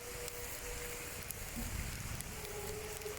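Heavy rain begins to fall outdoors, a steady, fairly faint broadband hiss of drops with a few soft taps and no voices.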